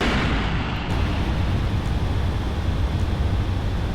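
Rockets firing in the building game Last Leviathan make a loud, continuous roaring rumble with heavy low-end noise that holds steady for the whole stretch, with no talking over it.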